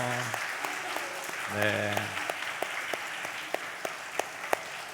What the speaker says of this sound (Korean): 축복의 박수 한번 다시 한번 하도록 하겠습니다